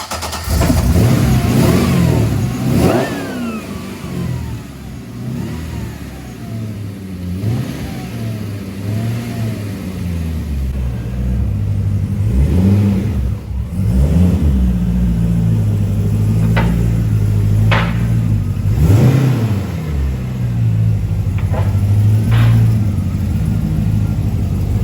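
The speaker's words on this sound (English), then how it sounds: "So we've got a cold start on the engine." A 1962 Corvette custom roadster engine fires up from cold, cranking into a loud, rough idle with repeated sharp throttle blips and revs close by, and no voices over it.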